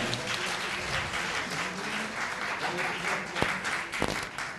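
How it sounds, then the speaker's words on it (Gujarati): Steady audience applause fills a hall at a Gujarati book launch ceremony, dense continuous clapping from a crowd with no voices standing out, holding at an even level throughout. "ખૂબ તાળીઓ સાથે એકવાર"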